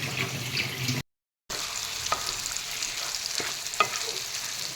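A spoon stirs chicken and cauliflower curry in a pan over a steady sizzle, with a few sharp scraping clicks against the metal after a short dropout.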